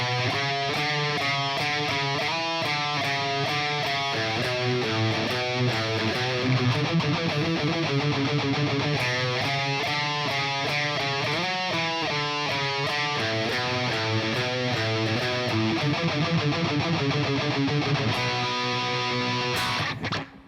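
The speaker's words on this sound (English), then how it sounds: "the guitar melody now sounds like this" Electric guitar plays an ending melody, a repeating riff of steady picked notes for about twenty seconds, close and loud, ending in a sudden stop.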